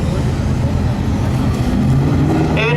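A turbocharged car driving an autocross course gives off a continuous loud engine drone with shifting pitch as it accelerates, heard close and steady throughout.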